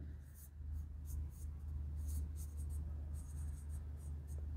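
Marker or chalk writing on a board during an accounting lesson, soft scratchy strokes in short bursts over a steady low hum, faint and close.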